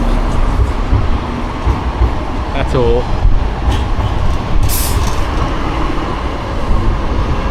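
Two Sheffield trams passing back to back on a city street, a loud rumbling roll with a brief squeal of wheels, while someone talks over the noise.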